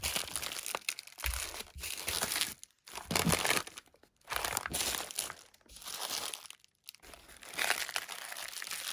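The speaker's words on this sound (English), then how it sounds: "each bookend will get wrapped in 1 square of large 1/2-inch bubble wrap and taped up" Large 1/2-inch bubble wrap crinkles and crunches in bursts as a heavy bookend is wrapped in a single square and taped up for shipping, with short pauses between handling sounds and no talking.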